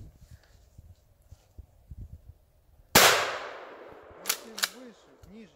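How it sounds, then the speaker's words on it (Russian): A single gunshot fired in a forest: one loud, sharp crack followed by a long, fading echo, with faint scattered sounds and soft voices around it. "Там один выстрел остался."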